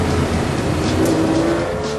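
Race car engine sweeping past in a racing video game, an Aston Martin DBR9 on a wet track, with a steady loud engine drone and a rising tone holding through the middle before easing off.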